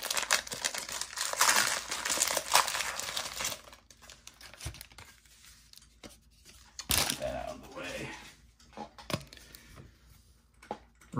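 Foil wrapper of a Transformers trading card pack being torn open and crinkled, a few seconds of busy crackling and rustling followed by sparser crinkles and a sharp tear, with someone talking quietly at times.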